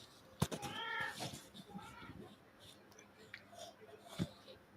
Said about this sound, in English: I, of course, am distracted by constantly returning a cat to where she should be.